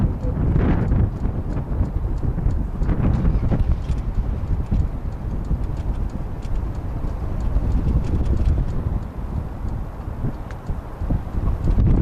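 Trotters pounding around the turn at Tallinn Hippodrome during a harness race, a dense, continuous drumming of hooves close by, with wind buffeting the microphone and no clear voices.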